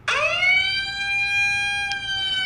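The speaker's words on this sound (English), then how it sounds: "I prefer the siren." A siren-style alert tone from the WIN-911 mobile alarm app sweeps up sharply and then holds a loud, steady wailing pitch, playing alone and close for the whole stretch.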